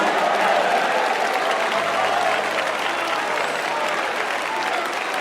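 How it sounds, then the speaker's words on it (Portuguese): A church congregation applauds loudly and continuously, a dense, even wash of clapping from many hands with faint voices mixed into the crowd. "Continua os aplausos misturado com glória a Deus."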